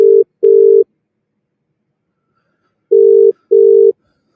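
A landline call being placed to an outside line, two loud double bursts of a steady telephone ringback tone separated by a long silent pause, clean with no talking.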